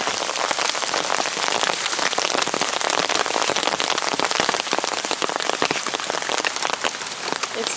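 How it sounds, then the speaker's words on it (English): Steady rain falls outdoors near home on a fishing day, a dense, even patter of drops on surfaces continuing throughout at moderate loudness, with no voices. "It's gonna rain again."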